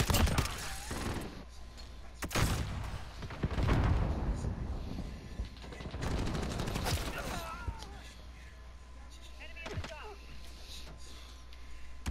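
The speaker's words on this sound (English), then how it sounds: "It's got sentry guns doing work." Sentry guns fire in the Call of Duty: Modern Warfare video game, a few sharp bursts of shots and mechanical clanks scattered among quieter stretches, with a voice talking at times.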